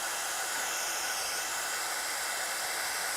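A handheld heat tool blows a steady, faint, even hiss of hot air while heat setting an embossed stamped image, continuous throughout with no talk.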